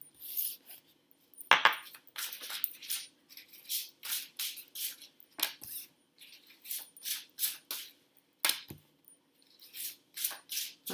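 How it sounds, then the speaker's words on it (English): A deck of tarot cards being shuffled by hand, with quick crisp riffling bursts repeating in close, uneven rhythm, up close and without talk. "I've got 3 cards that have come out as I was shuffling"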